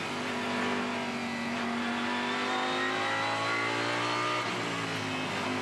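A Lamborghini Huracán race car at Sydney Motorsport Park, heard from the cockpit during an Australian GT Championship lap, its engine droning loudly and steadily with rising revs and a brief drop near the end, no talking.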